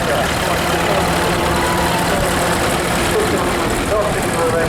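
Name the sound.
vintage tractor engine running in fair arena parade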